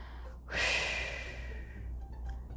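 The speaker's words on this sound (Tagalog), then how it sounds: "At kaya kong gawing maingay ang aking paghinga." A person breathes loudly and deliberately, with one strong airy exhale or sniff that swells and then fades into quieter breath noise, heard close up.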